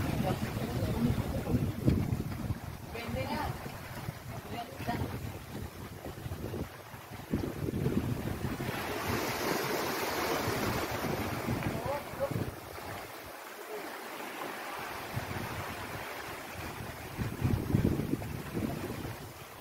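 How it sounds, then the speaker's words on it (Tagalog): Ocean waves wash onto shore at Sanctuary Beach in Maragondon, Cavite, a steady surging hiss mixed with gusty wind buffeting the microphone, with faint background voices. "Tanging maririnig mo na lang ay alon."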